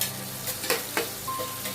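Whole green and red chillies frying with onion in a pan over medium heat for chilli chicken, a steady close sizzle broken by a few sharp spatters and stirring scrapes.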